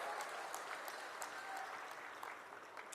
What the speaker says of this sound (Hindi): एक बार जोरदार तालियों के साथ उनका स्वागत और अभिनंदन करें।